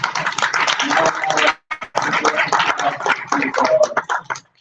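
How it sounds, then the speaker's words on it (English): A church congregation claps for their pastor, a close, lively burst of hand claps mixed with voices, briefly dropping out partway before picking up again. "give a hand clap for your pastor"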